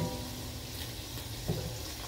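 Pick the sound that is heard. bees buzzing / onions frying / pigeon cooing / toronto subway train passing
onions frying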